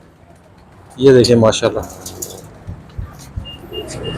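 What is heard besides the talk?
pigeon cooing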